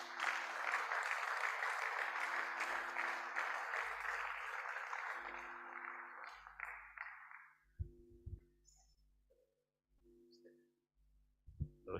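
An audience at a Lagos technical and business meeting applauds a speaker, a dense, even wash of clapping that holds for several seconds and then fades out, leaving a quiet room with scattered faint knocks and shuffles.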